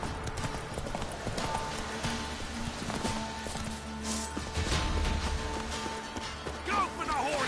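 Rhythmic clip-clop of a horse's hooves in The Witcher 3: Wild Hunt, trotting steadily and close, with game sounds and a brief voice mixed in near the end.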